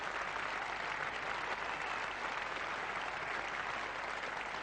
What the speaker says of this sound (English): Getting a great reception here from what's just about a full house now.